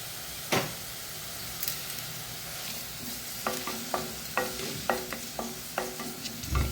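Onion and tomato fry in a pan under a soft, steady sizzle while a spoon stirs in a quick series of clear metallic scrapes and taps.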